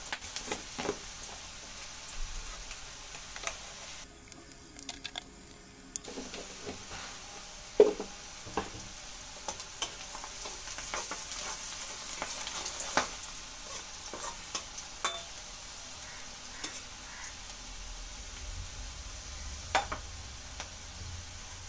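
Steady sizzling of onions frying in a pan with salt and turmeric, with occasional scraping and stirring clatter, close up and continuous, no voices.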